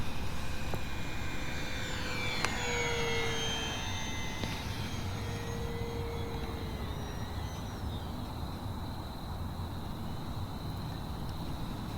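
An E-Flite RV-7 RC model airplane, 1.1 m span, flies at a distance, its faint motor whine sliding up and down in pitch as it maneuvers over steady outdoor background noise.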